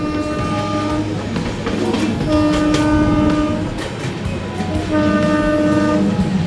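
A passenger train bound for New Jalpaiguri rumbles loudly close by, wheels clattering, while its horn sounds in long sustained blasts.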